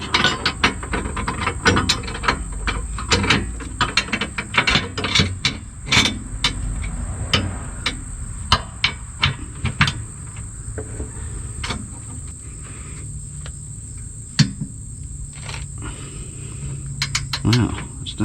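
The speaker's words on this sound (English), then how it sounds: "this is going to be interesting to torque this one down with the wrench" Ratchet wrench clicking steadily while torquing a Steeda IRS subframe brace nut on a 2019 Ford Mustang GT, rapid close clicks in repeated bursts with short pauses, a steady high tone in the background.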